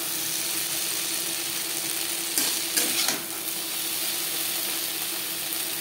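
Pointed gourd (potol) coated in salt and turmeric fries in oil in a kadai, a steady close sizzle with a few brief stirring scrapes near the middle.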